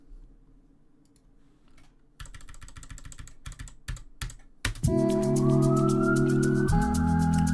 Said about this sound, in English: they actually carry the sirens over from the intro